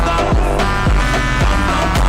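Electronic music track playing loud and alone, with punchy bass drops hitting on a regular beat under a dense, bright synth layer.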